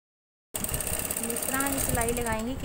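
After a brief silence, a sewing machine runs steadily as it stitches a folded piping strip onto a neckline, with someone speaking over the whirring motor.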